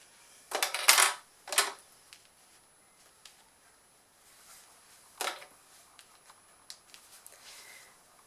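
Sewing clips being snapped onto folded fabric while making a berlingot-style toiletry pouch, giving a few sharp plastic clicks and taps, two louder ones close together early, then scattered fainter clicks with no talking.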